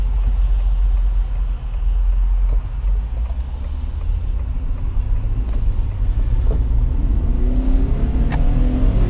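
A 2021 Ford F-150 with the 3.5 engine pulls hard from inside the cab, a constant deep rumbling drone with rising engine tone and a few light clicks, no talking.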